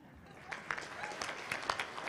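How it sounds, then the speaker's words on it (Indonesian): Graduation-ceremony audience at Universitas Bina Darma in Palembang breaks into fairly soft, scattered clapping, a steady patter with a few sharper claps standing out, heard from a distance in a large hall. "ya silakan tepuk tangan"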